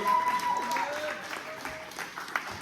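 A crowd applauding at an evangelical worship gathering, a steady wash of clapping heard together with voices.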